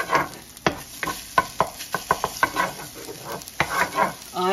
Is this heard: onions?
yes